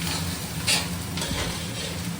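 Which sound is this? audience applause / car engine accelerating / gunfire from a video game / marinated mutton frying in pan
marinated mutton frying in pan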